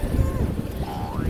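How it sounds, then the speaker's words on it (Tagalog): Wind blowing outdoors along a city street, a steady loud rumbling buffet across the microphone with faint traffic tones underneath. "Mahangin na din, mahangin man."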